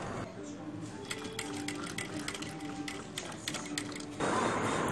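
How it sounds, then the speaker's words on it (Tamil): A sewing machine stitches lace along both sides of a sherwani in a tailoring class. It makes a steady, close mechanical whirring and rattling that keeps going for several seconds before the sound shifts near the end. "இது மாதிரி கொஞ்சம் அகலமாக இருக்கிறதுக்கு வந்து ரெண்டு பக்கமும் தையல் போட்டு இதை நம்ம ஸ்டிச் பண்ண போகிறோம்."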